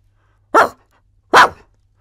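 Two sharp dog barks, close and loud, about a second apart, with silence around them.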